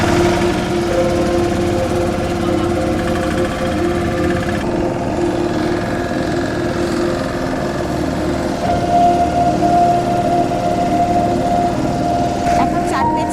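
A small tour boat's engine runs as the boat leaves on an evening ride: a steady loud droning putter with a buzzing tone that holds throughout and shifts slightly in pitch, with people talking underneath.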